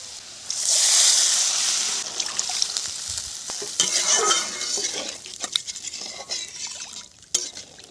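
Water poured into a pan of fried spices for a mourola fish curry, a loud hiss and bubbling burst giving way to spatula stirring and scraping with clinks of metal against the pan.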